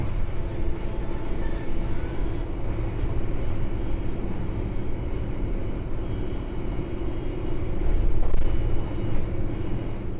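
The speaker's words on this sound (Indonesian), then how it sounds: "Ini keretanya udah ngebut ya teman-teman." Inside the KA Malabar executive train running at speed, a continuous low rumble of wheels and carriage noise holds steady with a slight swell near the end, and no voices are heard.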